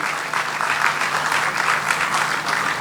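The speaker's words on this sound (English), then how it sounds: "Can we have the applause going, ladies and gentlemen?" Loud, dense applause from a conference audience at an inaugural session, a continuous wash of clapping held at an even level from start to finish.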